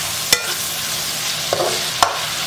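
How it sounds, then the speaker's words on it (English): Half an onion and half a chopped green pepper stirred in a frying pan, a constant sizzle with three brief knocks of the utensil against the pan. "what I'm going to add is my my half an onion and the half a green pepper that we chopped earlier. And I'm going to mix this around."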